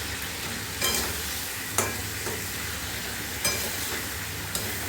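Pomfret fish frying in a small pan of gravy, a steady close sizzle with a few scraping stirs of a spatula as the pieces are mixed and turned, no voices.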